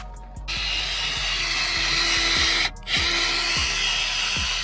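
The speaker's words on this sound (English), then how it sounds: "Remove the decals and using the rubber wheel to get the residue off" A rubber eraser wheel spins against a Denali tailgate, stripping leftover decal residue: a steady, close high-pitched tool whine with faint low knocks, briefly cutting out midway before resuming.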